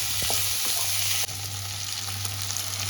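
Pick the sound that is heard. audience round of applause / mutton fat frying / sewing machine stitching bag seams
mutton fat frying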